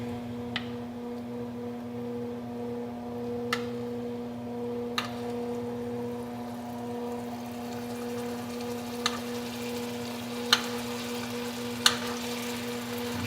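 Pork chops basting in a pan with sauce, onions and garlic, giving a steady, close sizzle and bubbling hiss with a few faint clicks of utensils against the pan.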